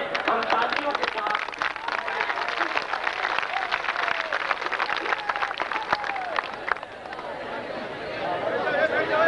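A large audience at a rally at Azad Maidan applauds in a dense, sustained roar of clapping that holds for the full stretch. Crowd murmur and a voice sit beneath it.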